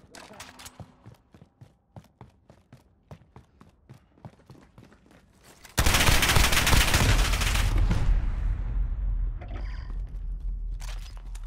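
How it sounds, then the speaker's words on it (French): Call of Duty Modern Warfare beta multiplayer gunfire: a run of sharp, evenly spaced shots, then a sudden loud, dense burst of firing and blast noise that lingers and slowly fades. "Il me tire dessus!"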